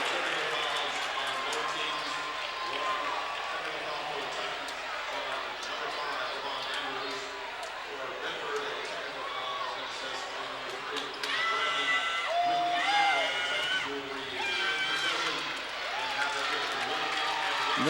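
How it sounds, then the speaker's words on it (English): Crowd in a high school gym cheering for the Lorain High Titan cheerleaders at a boys' basketball game against Bedford, a sustained roar of shouts and whoops with a commentator talking over it. "Big cheer for the Lorain High Titan cheerleaders."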